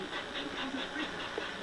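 A model train drifting along in a low gear at slow speed, giving a steady, faint hiss and soft rolling rumble that continues evenly without talk.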